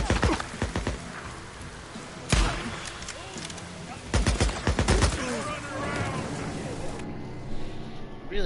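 Gunfire in the Days Gone video game, with bursts of shots at several points, loud and sharp, mixed with a rain-like wash and game noise under a talking voice.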